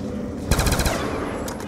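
Rapid automatic gunfire bursts out loudly in a zombies video game, a dense rattling volley of shots that starts suddenly and carries on steadily to the end.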